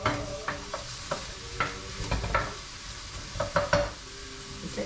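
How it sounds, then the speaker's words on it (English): Onions sizzle softly in a pan, a faint steady frying hiss broken by bursts of stirring and the scrape of a utensil against the pan, close and quiet with no talk. "We can hear the onions starting to sizzle, Matthew."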